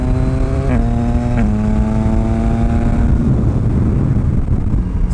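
A Yamaha MT09 motorcycle engine drones loud and close while riding, its pitch stepping through a couple of gear shifts before settling into a rumble under wind noise.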